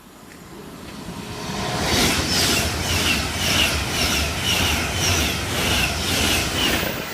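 A train runs straight through platform 2 at Longport station on the West Coast Main Line, a loud, close rumble rising quickly and then holding with a regular rhythmic clatter of wheels over rail joints.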